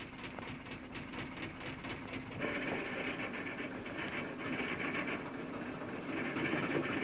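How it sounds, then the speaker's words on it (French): Coal mine locomotive starting to move, with a rolling rhythmic rail clatter and mechanical rumble that grows slightly louder partway through, heard faintly at a distance with no talking. "Il met sa loco en marche trop tôt"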